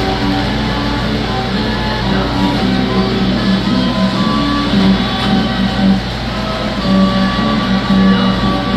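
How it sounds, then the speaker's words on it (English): Model railroad layout at a display in Strasburg, Pennsylvania, with a miniature circus train pulling up; a steady mechanical hum and whirring runs throughout with faint tonal whine, close and continuous. "Got a circus train here, just pulled up."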